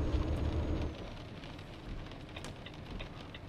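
Steady broadband rain hiss from Euro Truck Simulator 2, loud and dense at first, then easing to a softer continuous patter with faint scattered drops.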